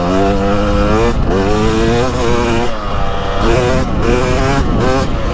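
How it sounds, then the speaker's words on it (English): A 2023 Husqvarna TX300 Heritage Edition dirt bike with a 300 TBI two-stroke engine revving through a few rising and falling throttle blips, loud and close, with no voice over it. "Still got this great 300 engine."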